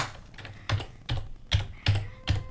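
Keys on a computer keyboard are typed in short bursts, with about five distinct clacks spaced unevenly across a couple of seconds, close and clear with no talk.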